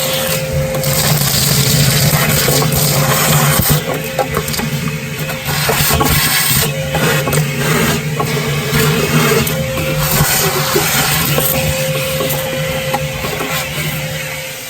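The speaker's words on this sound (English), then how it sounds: "right now I'll pull out my shop vac anytime I want to clean the egg and suck all the ash out" A shop vac sucks ash out of a Big Green Egg ceramic grill, giving a loud, steady motor roar with whooshing airflow and rattling debris that runs continuously throughout.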